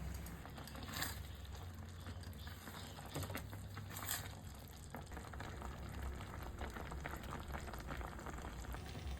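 Raw mango pieces simmer in bubbling sugar syrup spiced with cardamom, cloves and cinnamon, giving a steady close bubbling and popping with soft irregular crackles throughout.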